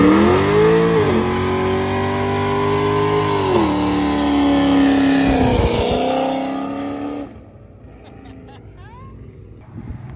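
An IndyCar race car engine roars and revs loudly, its pitch rising and dropping through several throttle blips before cutting off abruptly, leaving faint background noise.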